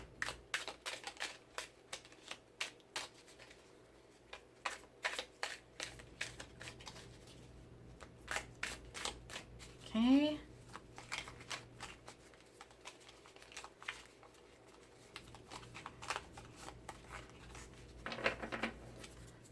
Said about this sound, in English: So let me just do a quick shuffle.